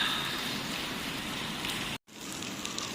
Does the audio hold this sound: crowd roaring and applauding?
no